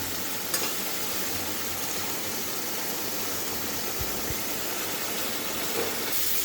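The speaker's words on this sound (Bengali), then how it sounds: "মশলাটা প্রায় ভাজা হয়ে এসছে" Ground spice masala frying in a pan for a banana stem and prawn curry, giving a steady, close sizzle and crackle with no talking.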